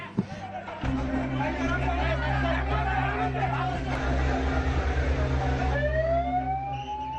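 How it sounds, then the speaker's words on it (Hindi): An ambulance siren starts wailing upward near the end, rising over crowd chatter and a rumbling engine. "यहाँ एम्बुलेंस का शोर है"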